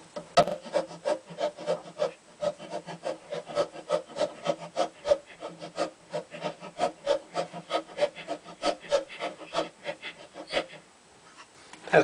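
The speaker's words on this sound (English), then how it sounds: "I finish off by hand with a tap wrench." A steady run of short rasping, scraping strokes, close and rhythmic, as a thread is tapped by hand with a tap wrench, with no talking.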